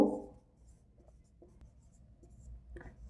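Chalk or marker writing an answer on a board during a class 8 maths lesson on circles: faint, sparse scratching strokes and light taps after a brief louder knock at the start, with no talk.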